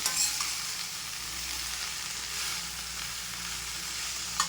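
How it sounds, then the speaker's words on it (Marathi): Fenugreek leaves frying and being stirred in a pan give a steady, fairly quiet sizzle, with a few light scrapes of the spoon near the start and end. "छान अशी मेथी हलवून घेऊया"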